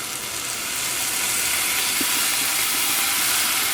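Ground yogurt blended with garlic hits tomatoes in a hot pan for Kerala moru curry, giving a loud, even sizzle and hiss that swells slightly and holds steady throughout.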